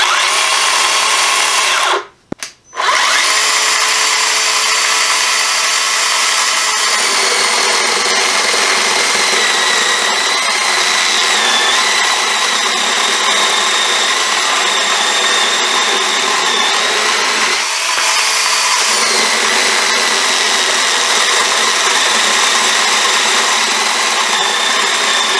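A 20-volt cordless chainsaw runs with a loud, steady high-pitched whine for about twenty-five seconds. It stops briefly near the start, then restarts, and no one talks.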